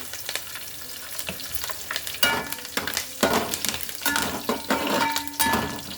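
Cashews and curry leaves sizzle in hot oil in a pan while being stirred, with irregular crackling bursts and occasional utensil clinks, close and fairly loud, with no speech.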